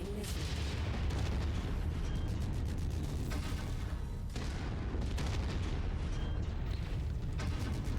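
Heavy booming blasts from incoming missiles striking in the MechWarrior 5: Mercenaries mech combat game, a dense continuous barrage of loud rumbling explosions with sharp cracks throughout.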